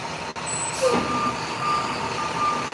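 A truck reverses with a steady series of high, evenly spaced warning beeps over a continuous engine rumble, with a brief hiss of air brakes early on.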